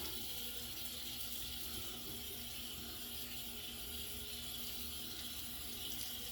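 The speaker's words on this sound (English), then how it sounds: "This was just run under the warm water" Warm tap water runs steadily into a sink, a constant close rushing flow with no breaks, while a razor is being rinsed under it.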